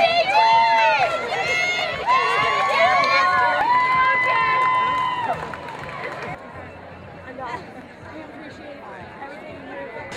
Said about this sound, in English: Seems like a record crowd.